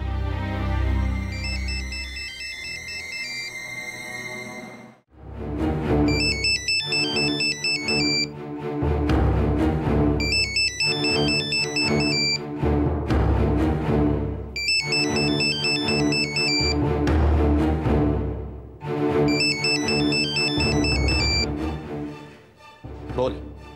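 A telephone rings and goes unanswered in a Marathi TV serial scene: a repeating electronic ringtone melody comes in regular bursts for about twenty seconds over a steady musical background.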